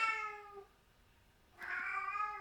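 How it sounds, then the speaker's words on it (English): A cat meows twice on an indoor set, two drawn-out harmonic cries separated by a short quiet gap, fairly close and clear with no talking over them. "a cat on the set"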